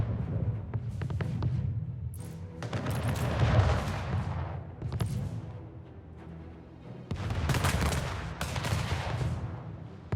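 Naval fleet cannons in an Anno 1800 harbor battle, bursts of booming gunfire in two loud volleys separated by a quieter lull, heavy and rumbling.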